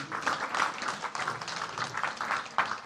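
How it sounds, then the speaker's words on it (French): A church congregation applauds and cheers for themselves, a dense, steady wash of clapping and voices filling a large room throughout. "Acclame pour toi-même."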